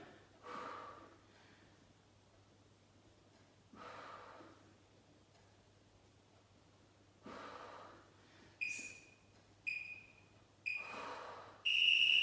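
Forceful exhales during a dumbbell press in a low-impact strength circuit, heard as several separate breathy bursts, some with a whistling edge, spaced a few seconds apart over a steady low hum.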